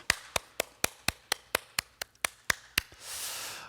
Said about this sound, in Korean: 우리 하나님께 감사드리며 수고한 모든 봉사자들을 위해 우리 박수로 우리 축복합시다